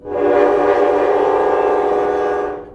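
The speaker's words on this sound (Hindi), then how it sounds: "ट्रेन को रोकने की कोशिश में ब्रेक्स की एक जोरों की आवाज आई।" Train braking hard with a loud, sustained metallic screech of wheels on rails, a bright tonal squeal that swells in quickly, holds steady for a few seconds and fades at the end, with no voices.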